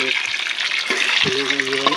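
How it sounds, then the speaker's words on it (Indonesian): Ingredients for Sundanese-style sambal kikil with beef skin sizzle and fry in a pan, a steady crackling hiss with occasional stirring clatters, while a voice speaks briefly over it. "digoreng sampai keluar aroma wangi"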